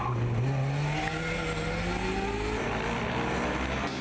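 Formula Student race cars lap during an endurance event, with an engine pitch that climbs steadily as a car accelerates past. The sound is loud and continuous over a broad roar of track noise, and no one speaks.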